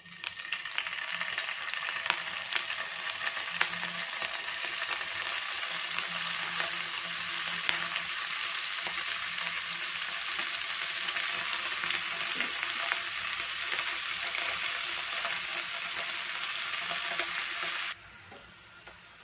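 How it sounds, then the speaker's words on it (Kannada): Paneer cubes frying in hot oil in a pan, a dense, steady sizzle heard up close with occasional small crackles and stirring clinks, cutting off abruptly near the end, no voices. "ಈಗ ಇದಕ್ಕೆ ಪನ್ನೀರ್ ಕ್ಯೂಬ್ಸ್ನ ಹಾಕ್ಕೊಳ್ತಾ ಇದ್ದೀನಿ"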